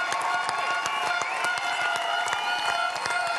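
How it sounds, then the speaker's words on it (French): A competition audience at the 2013 Coupe du Monde de Pâtisserie claps and cheers for young pastry chefs, with loud, dense and continuous applause and whoops filling the room. "tous les membres du comité sont debout pour applaudir et fêter ces jeunes pâtissiers qui rentrent dans l'histoire du métier aujourd'hui"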